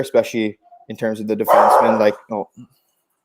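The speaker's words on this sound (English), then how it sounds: "That's my dog." A pet dog barks several times in short bursts close by, overlapping someone talking, with a brief yip and a rough growly bark in the middle.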